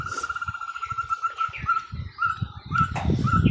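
Birds chirp and tweet outdoors in a family garden, a repeated high whistled call running across the whole stretch over low clatter and movement nearby, with a few scattered calls from other birds.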